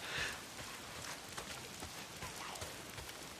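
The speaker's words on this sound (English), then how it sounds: "If it's not the freaks, it's the goddamn rain." Rain falling in the video game Days Gone, a soft, steady, faint patter with scattered light drops throughout and no talking.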